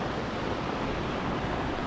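A rain-fed stream in the Konkan countryside, swollen after a night of heavy May rain, rushing in a continuous, dense broadband roar with no pauses.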